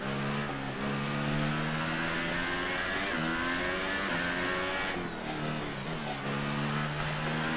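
Formula 1 car engine lapping a Hungarian qualifying circuit in the racing game F1 2018, a loud, steady high-revving whine with harmonic shifts through upshifts and downshifts, running continuously without talk.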